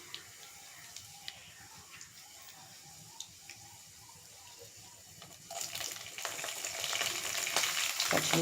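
Green chillies and onion go into hot oil in a pan for a boondi and drumstick curry. A quiet, light sizzle with soft taps swells into a louder, steady crackling fry partway through.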